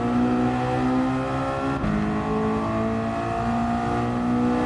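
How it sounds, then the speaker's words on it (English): A racing video game car engine, played on a Thrustmaster T-80 wheel, drones and revs steadily, its pitch sliding up and down with a brief dip, fairly loud and continuous with no talking. "I can hear the engine kicking up"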